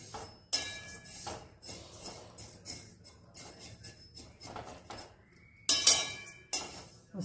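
Sesame seeds dry-roasting in a pan over a low flame: sparse, faint crackles and light scraping clinks come in irregular bursts, with a few sharper louder taps near the end.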